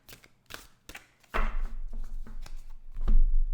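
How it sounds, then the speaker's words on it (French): A deck of tarot cards is cut and handled at close range: a few light taps and flicks, then a sustained papery rustle and shuffle of cards that continues with a brief louder swell near the end. "Une petite coupe ici avec ce tarot."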